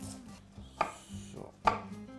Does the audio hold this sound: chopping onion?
yes